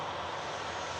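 Steady, loud jet engine roar from an airliner at Manchester Airport, a dense unbroken wash of noise for about a second.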